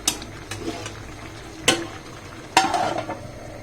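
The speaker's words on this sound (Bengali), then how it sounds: "দেখো বন্ধুরা লতিটাকে আমি সুন্দর মতো নাড়াচাড়া করে দিচ্ছি" Taro stolons (kochur loti) are stirred in a pan, with a soft background sizzle and a few distinct scraping and clinking strokes from the utensil against the pan, close by and without talk.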